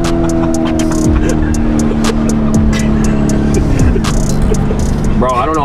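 A Lamborghini Urus with its exhaust in Corsa mode idles loud and close with a steady, deep engine drone, dips in pitch near the end, then rises into a brief rev, with voices heard alongside.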